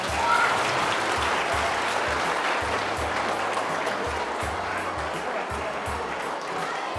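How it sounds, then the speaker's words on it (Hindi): Students applauding together in a classroom during a chemistry demonstration, a steady wash of clapping with a low rhythmic thumping underneath. "तालियों की आवाज थोड़ी कम आई इस बार।"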